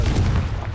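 A Confringo blasting spell fires in a video game, a single booming burst with a heavy low-end rumble that stays loud and rolls through the whole moment, close and forceful.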